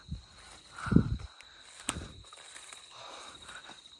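Footsteps on a path leading down toward a field of graves at a cemetery, a few soft irregular steps heard close with one heavier thump, over faint background hiss.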